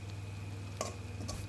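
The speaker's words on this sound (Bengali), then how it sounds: "তো এখানে পেঁয়াজ কাঁচামরিচ এগুলো লাল করে ভেজে নিয়েছি" Onions and green chilies fry in a pan with a soft, steady sizzle, faint and close, with a couple of brief stirring scrapes and no voices.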